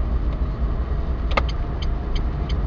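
Inside a car on a driving-test route along Nowohucka Street in Kraków, a low steady engine and road hum with a few faint ticking clicks as it turns left.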